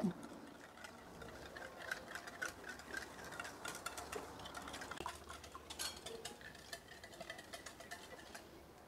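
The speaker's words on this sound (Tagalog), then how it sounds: "Haluin natin ulit ito hanggang sa medyo natunaw na yung ating asukal." Coconut milk and white sugar being stirred for puto batter, a rapid run of light clinks and ticks of utensil against the bowl, close and fairly faint, with a voice talking alongside.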